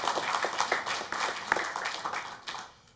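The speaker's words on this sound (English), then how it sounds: "Let's give a round of applause for that." Scattered hand clapping rises from attendees at a school board meeting, individual claps audible within moderate applause that thins and fades out toward the end.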